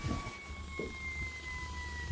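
A boat seat squeaking with a steady, siren-like two-tone whine, held continuously at moderate volume over a low engine rumble.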